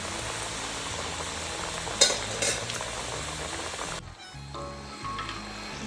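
Sakinalu, rice-flour snacks, fry in hot oil with a dense, continuous close sizzle, briefly interrupted by stirring and a clink as they are turned, the sizzling dropping a little after a few seconds.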